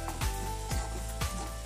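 Spices fry in hot oil for an egg curry, a sizzling hiss with three sharp scraping stirs at even intervals, close and loud without talk.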